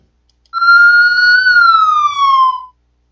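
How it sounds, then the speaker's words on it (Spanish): A loud electronic ambulance siren sounds alone, a single long tone that swells in and glides slowly downward before cutting off abruptly. "primer sonido se utiliza cuando una ambulancia va con un trayecto largo"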